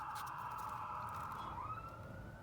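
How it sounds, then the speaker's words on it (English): A steady wailing siren carries from a distance, holding a sustained tone with a slight pitch shift, over faint background rumble. "Oh, I can hear a siren now"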